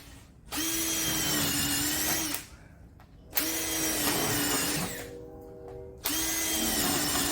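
A power drill drives stainless self-tapping screws into a rooftop tent rack, with three loud sustained whirring bursts separated by short pauses, close by and with no voices.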